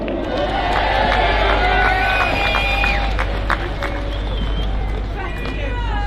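A large outdoor protest crowd cheers, whoops and claps for a speaker being welcomed to the stage, a loud, sustained roar of many voices with scattered shouts.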